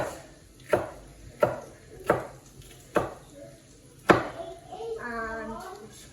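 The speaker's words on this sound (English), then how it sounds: "And we're just going to chop them up" A knife chops peppers on a cutting board while cooking chicken bhuna, with five distinct, evenly spaced thuds fairly close by, followed by a brief voice speaking.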